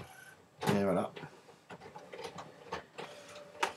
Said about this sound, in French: J'ai entendu réagir l'imprimante.